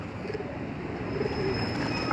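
Pigeons coo softly from a rooftop loft, low murmuring calls drifting over a faint steady background hum, fairly quiet and continuous.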